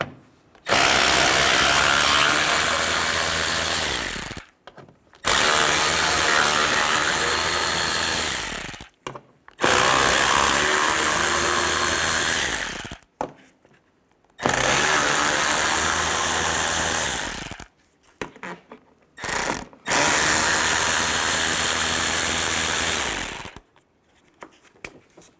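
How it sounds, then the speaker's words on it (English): A power tool with a T30 socket spins out fender bolts on a 1998-2010 Volkswagen Beetle, five loud bursts of several seconds each with brief quiet pauses between, close and without talk. "Now we're going to take all these bolts out on top of the fender."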